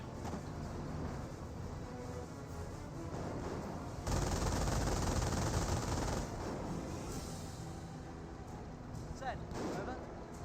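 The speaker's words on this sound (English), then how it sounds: "MG42 trying to set on up. May get a bit of a burst there." Bursts of MG42 machine gun fire amid the din of a Company of Heroes World War II battle, dense continuous gunfire and rumbling with a louder stretch midway, under a commentator's voice.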